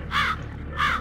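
Two loud, harsh caws from a crow in the video game Vampire The Masquerade Bloodlines, evenly spaced about half a second apart over a steady low ambient hum.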